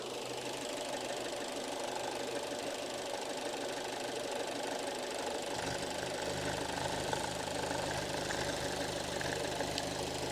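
Fiat / Alfa Romeo Giulietta engine idling after a few minutes of running, not yet fully warm, with a steady, even mechanical hum and a faint ticking rhythm throughout.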